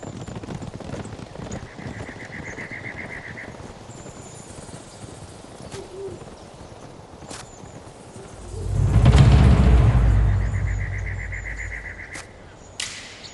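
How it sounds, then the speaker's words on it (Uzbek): Horses arrive with soldiers, hooves clip-clopping steadily in the background while a loud whinny rises near the end, with faint rhythmic tones over an outdoor ambience. "Askarlar va otlar yetib keldi."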